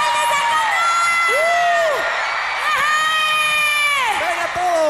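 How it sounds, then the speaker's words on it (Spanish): A concert audience of fans in Canada cheers and screams loudly and continuously, with high shrill whoops and shouts layered over a dense crowd roar, close and sustained throughout. "este aplauso y este grito es para ustedes"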